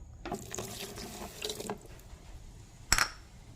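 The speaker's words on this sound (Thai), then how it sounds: "ใส่น้ำปลาลงไปเลยนะจ๊ะหนึ่งถ้วยตวง" Fish sauce is poured into a measuring cup in a short trickling stream, followed by a brief clink, faint and close.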